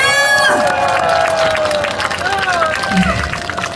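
An audience at the 28th Jecheon Bakdal song festival, an outdoor Korean singing contest, cheers and claps loudly and steadily, with shouting voices rising over the crowd noise throughout.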